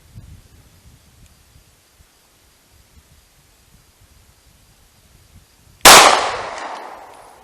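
A single sharp 9mm gunshot from a Taurus GX pistol loaded with 147 grain Federal HST rounds cracks out loud and close after several seconds of quiet rustling, its report decaying over the following second or so.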